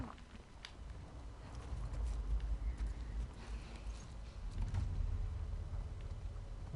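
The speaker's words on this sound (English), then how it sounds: "I'm hearing footsteps." Faint patrol footsteps in The Last of Us Part II, a muffled, irregular series of soft thuds and scuffs beneath quiet game ambience, rising slightly in the second half.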